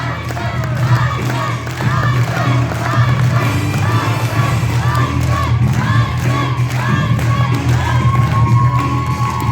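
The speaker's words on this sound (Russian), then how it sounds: "Ну что ж, аплодисменты!" A loud crowd cheers and applauds continuously at a children's short film festival awards ceremony, with shouts and whoops rising over the clapping.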